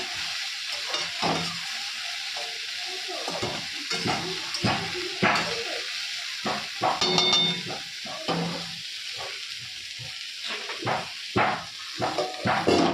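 Spices with turmeric and salt fry in oil in a pan, giving a soft, continuous sizzle broken by frequent stirring scrapes and light knocks against the pan.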